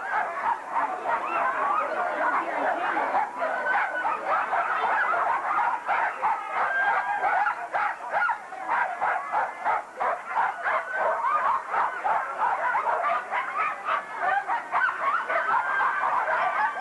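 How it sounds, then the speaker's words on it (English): Sled dogs at the start of the Iditarod dog sled race in downtown Anchorage, a steady dense chorus of overlapping barks and yips from a crowd of dogs, continuous and moderately loud throughout. "I'm here in beautiful downtown Anchorage for the start of the Iditarod dog sled race."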